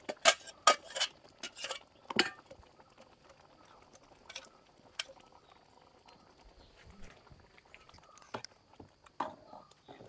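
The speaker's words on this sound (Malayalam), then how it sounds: "നമ്മളിതാ അരപ്പും കൂടി ഒഴിച്ചു കൊടുക്കുന്നുണ്ട് കേട്ടോ." Close, faint splashes and clinks as ground spice paste is poured into jackfruit curry cooking in a pot, with scattered sharp knocks of a utensil against the pan and brief talk at times.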